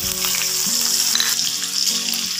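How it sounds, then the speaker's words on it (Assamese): Chopped onions and green chillies fry in hot oil for an Assamese dried-fish curry, making a brief, close burst of bright crackling sizzle with no voices. "আৰু তেলত দিবলৈ লৈছোঁ এতিয়া পিঁয়াজ আৰু কেঁচা জলকীয়া"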